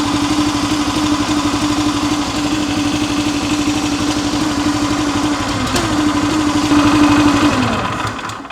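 A small engine runs at a steady, loud, close drone with an even buzzing tone that lifts slightly near the end before easing off.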